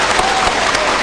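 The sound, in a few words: audience applause for the three panelists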